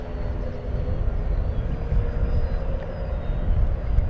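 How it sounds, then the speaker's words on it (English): An FMS Corsair 1700mm RC model warbird with an upgraded 360KV electric motor flies overhead, its steady motor and propeller drone holding at a fairly loud level the whole time, with no talk. "Beautiful flying airplane though."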